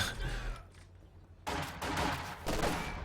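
Gunfire in the video game Company of Heroes 2 as conscripts fight an LMG squad at close range: bursts of rifle and machine-gun fire crackle, fading then returning louder in rapid volleys, moderately quiet overall.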